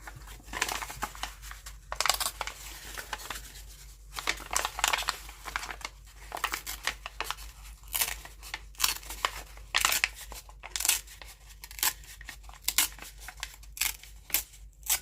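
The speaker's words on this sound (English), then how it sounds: "Sorry for the crinkly noise." Paper is torn and crinkled by hand while making a Christmas ephemera folder, giving close, dry bursts of crackling and ripping that come in irregular clusters with short pauses between them.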